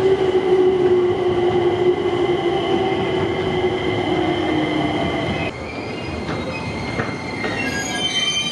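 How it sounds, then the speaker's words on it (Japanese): An E257 series Chuo Liner train pulls into a station platform, its wheels squealing with a loud, sustained metallic screech over rolling rail rumble that eases slightly toward the end. "ライナー号到着です。"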